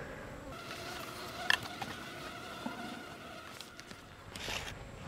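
Honey bees buzz around an opened hive chock full of honey, a soft steady hum with occasional louder passes of individual bees close by.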